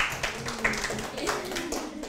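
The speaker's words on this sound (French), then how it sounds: "Vous pouvez l'applaudir." Scattered clapping from a small audience at a Torah lesson, individual claps audible with a voice speaking over them.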